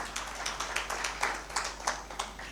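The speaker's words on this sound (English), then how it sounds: "May we give them a round of applause." Audience applause at a conference session at Victoria Falls: a thin scattering of separate hand claps, fairly faint and unevenly spaced, with no voices over them.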